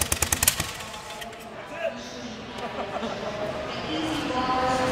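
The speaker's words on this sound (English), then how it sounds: "starting the Captain America bike" A custom Captain America chopper motorcycle at a bike show in Charlotte cranks and fires with a burst of sharp, rapid popping bursts at the start, then settles into a rumbling idle amid crowd noise and nearby talk.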